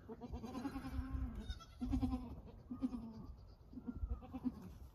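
Several goats bleat in a row, each call wavering and fairly close, with short pauses between them and some low background rumble.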